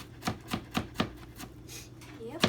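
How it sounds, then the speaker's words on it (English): Garlic is chopped into fine pieces with a knife on a board, giving sharp, evenly spaced knocks roughly every quarter second, close and distinct, with a faint voice-like sound near the end. "she's chopping into fine pieces"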